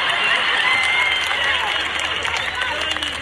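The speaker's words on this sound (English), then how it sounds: "Now, a lot of you are clapping." Audience applause at a Paul Mooney stand-up comedy show, a dense, steady roar of many hands clapping that fills the whole stretch at high volume, with crowd noise mixed in.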